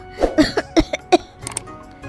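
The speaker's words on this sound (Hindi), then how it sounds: "दोनों खांसने लगती है।" A few short, harsh coughs in quick bursts from two women, close by, followed by quieter throat sounds.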